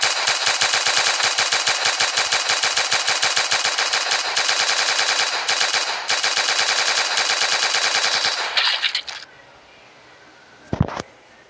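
A rifle in a video game fires in long, rapid automatic bursts for about eight seconds, loud and close, then stops and leaves a quiet stretch broken by one short sharp knock.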